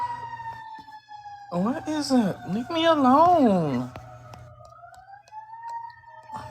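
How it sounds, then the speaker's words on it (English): A siren wails in the background with a steady rising and falling tone while a person speaks over it. "Oh, these goddamn sirens and shit."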